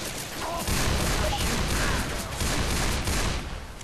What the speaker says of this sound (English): You have to use your pistol here